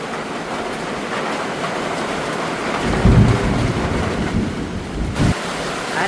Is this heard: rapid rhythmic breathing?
no